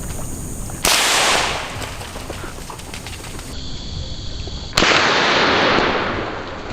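Two loud rifle gunshots during a wild boar hunt, each a sharp close crack with a long decaying echo, spaced about four seconds apart.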